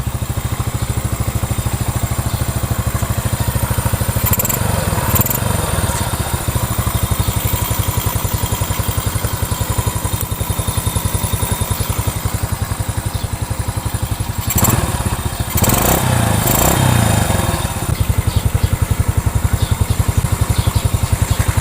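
A small Yamaha Krypton motorcycle engine idles and runs steadily with a rattly, buzzing putter, close by, with a few brief revs partway through.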